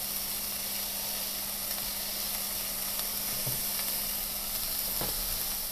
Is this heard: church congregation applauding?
no